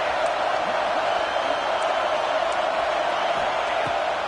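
Football stadium crowd at a college game, a loud, continuous roar of many voices filling the air at a steady level throughout, with no break or single standout shout.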